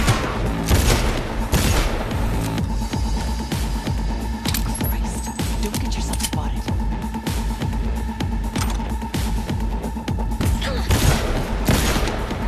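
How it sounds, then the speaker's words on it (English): Dense gunfire in the video game Cyberpunk 2077, rapid shots and booms packed into a continuous loud barrage with a steady hum underneath, close and unbroken throughout. "Shooting at me with my own gun."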